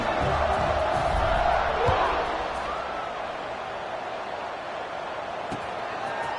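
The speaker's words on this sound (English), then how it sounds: "this crowd is buzzing after that last score" A football stadium crowd at a game involving Iowa buzzes after a score, a loud, dense roar that swells briefly and then settles into a steady far-off rumble beneath a commentator's talk.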